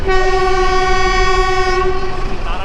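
Narayanganj commuter train sounding a long, loud, steady horn close by for nearly the whole stretch, with low rail rumble underneath and no talking.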